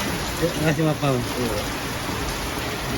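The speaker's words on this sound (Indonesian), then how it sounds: "berteduh hujan nih mau berangkat" Steady rain falling during a road trip from Cilegon to Dumai, a continuous broadband hiss throughout, with someone briefly speaking near the start.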